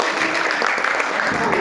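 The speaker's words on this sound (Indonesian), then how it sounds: "Ya, tepuk tangan dong." A classroom group claps in a short, dense burst of applause lasting under two seconds, close and fairly loud, with voices mixed in.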